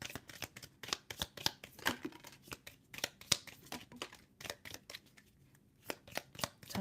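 Tea leaf tarot cards are shuffled close up in quick, soft riffling flicks and taps, a steady papery patter that continues for several seconds with no voice.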